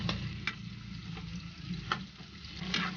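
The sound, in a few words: stirring chicken feet adobo frying in oil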